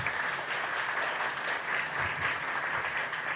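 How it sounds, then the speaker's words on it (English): An audience at a book launch claps, a steady, even round of applause that continues throughout without a break. "Let's have a big round of applause for everyone."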